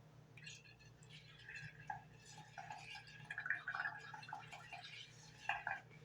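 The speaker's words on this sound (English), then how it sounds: "I have water and I have dish soap. It's that simple, in a straw. I'm going to blow." Blowing through a straw into a bowl of water mixed with dish soap gives soft bubbling gurgles in irregular bursts, quiet and close, with no talk.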